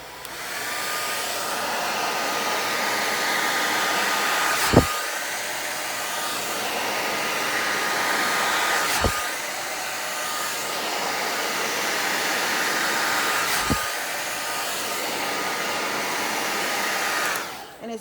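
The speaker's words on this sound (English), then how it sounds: "So we'll be blow drying." A hair dryer blows steadily and loudly for the whole stretch during a silk press on natural hair, a continuous close roar with a few brief clicks or bumps as it moves from roots to ends.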